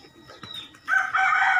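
A Bangkok-breed rooster crows close by, one loud drawn-out call that starts partway through after a few faint chirps.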